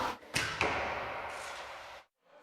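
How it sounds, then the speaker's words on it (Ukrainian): Arrows released from a bow during archery practice with veterans, two sharp snaps followed by a rushing whoosh that fades before a brief silence, close and fairly quiet, with no talking. "Наскільки вправно вінницькі ветерани стріляють з лука"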